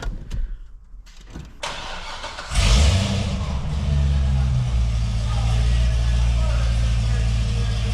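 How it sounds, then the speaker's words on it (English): C6 ZR1 Corvette with a modified exhaust firing up: a starter crank followed by a loud catch into a deep, steady rumbling idle, close by. "Give it another start here."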